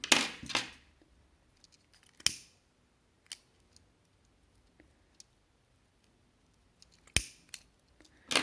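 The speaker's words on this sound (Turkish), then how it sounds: "Fazlasını kesiyorum hemen." Scissors snip off excess yarn during crochet work on a towel edging. A handful of sharp, close cuts and clicks stand out against near silence, spaced unevenly across the stretch.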